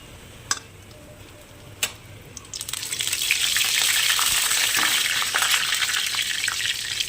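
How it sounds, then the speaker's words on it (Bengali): Whole coriander, peppercorns, cardamom, cinnamon, cumin and bay leaf hit a little hot oil. Two sharp taps come first, then a loud, steady, close sizzle takes over and continues to the end. "তেলের মধ্যে দেব কয়েকটা ধনে গোলমরিচ এলাচ দারচিনি আর জিরে দিয়ে দিলাম এবারে দেব তেজপাতা"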